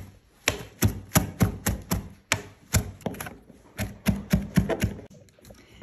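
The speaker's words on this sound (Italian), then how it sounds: "Nel frattempo prepariamo il prezzemolo tritato." A knife chops parsley on a board in quick, uneven bursts of sharp, close taps with short pauses between runs.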